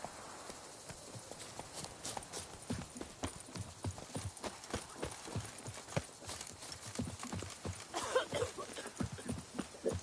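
Hooves clip-clop steadily as a horse trots across ground in Witcher 3, a quick, even run of hoofbeats heard alone at moderate distance, with a brief louder clatter near the end.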